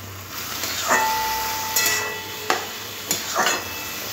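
Radish greens frying in a pan with a little turmeric: a soft steady sizzle, broken by several sharp spatula scrapes and knocks against the pan, with no voices.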